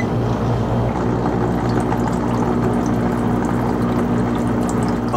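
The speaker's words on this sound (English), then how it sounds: "Now let's try the bubbles and the other thing." An Arealer foot spa bath massager making bubbles, a steady close churning of bubbling water over a constant motor or pump hum, unbroken and fairly loud.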